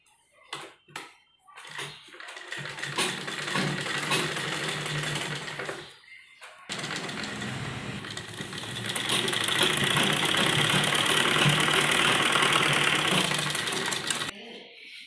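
A sewing machine runs in two long bursts while stitching a child's kurta sleeve, a fast steady motor whir after a few short starts, close and loud, with a short pause between runs.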